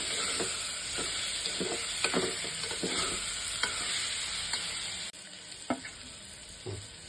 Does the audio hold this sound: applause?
no